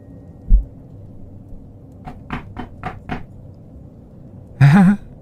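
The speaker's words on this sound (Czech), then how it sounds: "Něco mi právě zaklepalo na dveře." Five evenly spaced knocks on a door ring out in a quiet room at night, sharp and fairly close, preceded by a single dull thump and followed by a brief loud wavering tonal sound.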